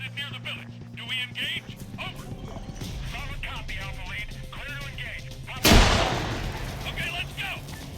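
Video game combat during a benchmark run on an HD 8790M, with a loud grenade blast followed by rumbling and gunfire, while a voice talks over the action before and after.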